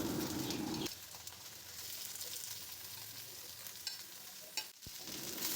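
Potato, eggplant and pointed gourd frying in mustard oil, a dense steady sizzle with a few soft stirring knocks, while a pigeon coos faintly in the background.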